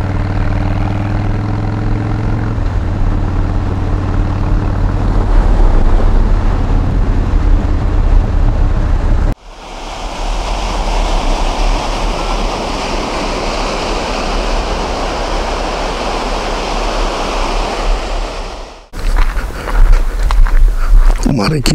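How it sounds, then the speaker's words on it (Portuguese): Calm sea waves at a city shoreline give a steady broadband wash of surf, fairly loud and continuous, with a stretch of talk before it and wind-like noise throughout. "O mar aqui na cidade estava bestial."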